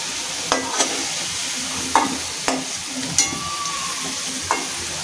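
Fish and potato pieces fry in hot oil with a steady close sizzle, broken by several sharp scrapes and clinks of a spatula stirring the pan.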